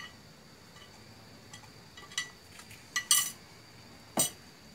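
Pounding shrimp paste, garlic, chili and shallot in a mortar for a Thai banana blossom curry, with a few sharp knocks and clinks scattered over a quiet background and one louder thud near the end.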